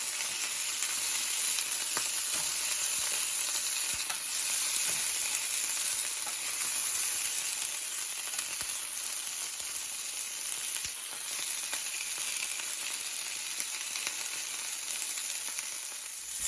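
Italian sausages sizzle steadily in oil in a pan, a constant close crackling hiss with faint pops and no talk.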